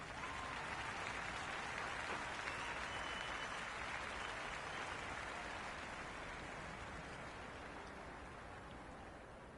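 Stadium crowd applauding and cheering in the Cricket 26 video game during a Super 6 match between Gujranwala Rustams and Peshawar Zalmi, a dense, steady roar of clapping that fades slightly toward the end.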